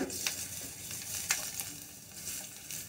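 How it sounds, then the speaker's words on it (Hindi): Finely chopped garlic goes into hot oil in a pan and fries with a steady, close crackling sizzle throughout, with no one talking. "तेल गरम हो रहा है, अब हम इसमें डाल देंगे, ये मैंने फाइनली चॉप्ड गार्लिक रखे हैं, लहसुन"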